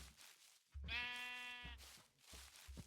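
A single Minecraft sheep bleats once, clear and nearby, amid soft thumps and rustling in the video game.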